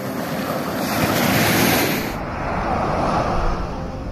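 Ocean surf washing steadily onto a beach in Mauritius at rising tide near sunset, a continuous close roar of breaking waves with wind buffeting the microphone throughout.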